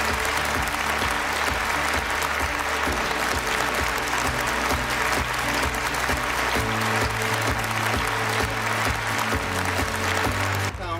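An audience at a conference opening ceremony claps to welcome a speaker, loud sustained applause running steadily throughout, with a low musical tone and faint voices underneath.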